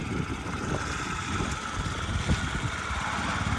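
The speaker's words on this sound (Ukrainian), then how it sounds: "Він трошечки м'якше працює двигун." A Yamaha Jog SA55 fuel-injected scooter engine idles steadily nearby with a soft, even putter and faint rattling, no one speaking.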